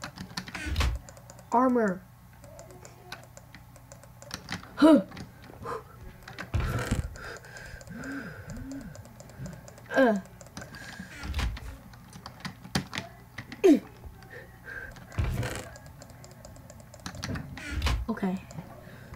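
Rapid computer mouse and keyboard clicks come in quick close bursts during a Minecraft Skywars match, with a voice talking intermittently over them.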